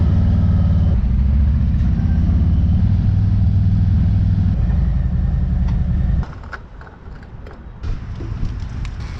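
Motorcycle engine droning steadily while riding on a road through the Badlands, loud and close, then dropping to a lower, quieter rumble partway through.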